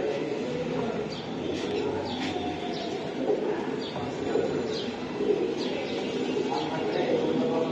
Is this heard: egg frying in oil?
no